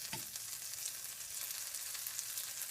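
Butter sizzles and fries in a pan while Kaiserschmarrn cooks, a steady, bright crackling hiss that stays even throughout, with a faint scrape near the start and no speech.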